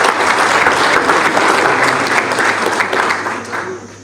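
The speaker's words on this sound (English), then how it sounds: "A big hand clap to him." A crowd applauds steadily, loud and sustained, the clapping gradually tapering off toward the end.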